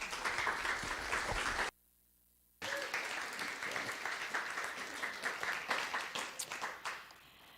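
A church congregation applauds at a Sunday service to welcome a reverend, steady clapping from many hands that breaks off briefly, then resumes and tapers away.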